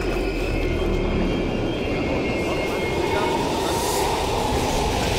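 A train rumbles past in Call of Duty Black Ops Cold War in East Berlin, a dense continuous roar of wheels and carriages at steady loudness; voices may be mixed faintly underneath.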